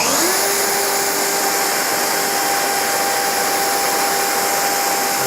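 A wood router spins up on a test piece, a steady high-pitched motor whine with a rising tone at the start, then a loud continuous buzz as it follows a traced line.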